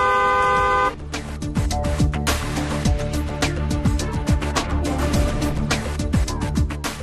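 A car horn honks repeatedly in a busy stretch of road traffic, short loud toots layered over a steady engine and traffic rumble, following an opening tonal blare.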